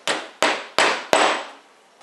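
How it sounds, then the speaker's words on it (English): Four sharp taps drive a plug fixing into plasterboard, evenly spaced about a third of a second apart, each ringing briefly before the next, close and fairly loud with no talk. "tap it into place"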